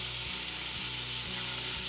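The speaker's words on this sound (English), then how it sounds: "I put about a tablespoon or so of extra virgin olive oil in there to make sure that the meat doesn't stick too badly. And now, sizzle, sizzle, sizzle." Meat browning in a tablespoon of extra virgin olive oil inside an Instant Pot gives a loud, steady, close sizzle, broken by a few soft low knocks, with no talking.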